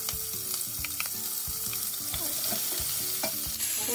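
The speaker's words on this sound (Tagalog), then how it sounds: "Ito na rin tayo magigisa ng ating sibuyas, kamatis." Onions sautéing in a pan with oil for a tomato-and-onion base, a constant close sizzle with occasional stirring scrapes, and no voices.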